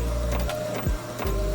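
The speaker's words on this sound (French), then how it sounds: "J'espère que vous entendez pas trop l'imprimante à côté" A printer works right beside the microphone, a loud steady mechanical whir with sweeping motor tones and brief pauses as the print head shifts.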